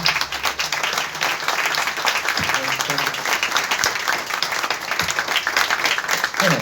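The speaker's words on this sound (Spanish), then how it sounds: "Un aplauso también para estos compañeros" Sustained audience applause at a cultural centre's anniversary book presentation, steady dense clapping from a crowd filling the whole stretch, with faint voices underneath.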